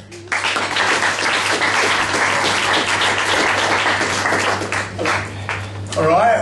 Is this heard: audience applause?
yes